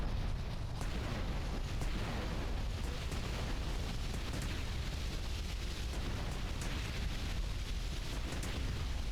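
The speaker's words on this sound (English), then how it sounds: "Going to plant the bomb." Bomb blast in GTA Vice City, a loud sustained roaring rumble of explosion and debris noise filling the whole stretch, with crackling bursts on top and no talking.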